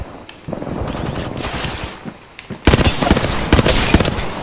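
Gunfire in Apex Legends: rapid automatic bursts at first, then louder, denser volleys of close shots in quick succession, with no talking.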